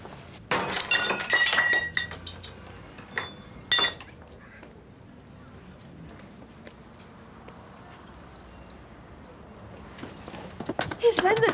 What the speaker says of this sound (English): I'll smash the glass there and I'll put my arm in.